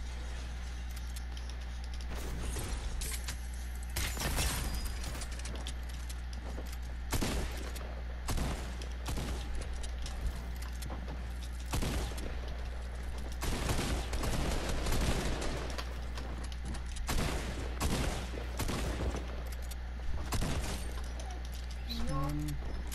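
Gunfire in a squad-based video game shooter, repeated sharp bursts of shots scattered irregularly over a constant low hum, with a player talking at times.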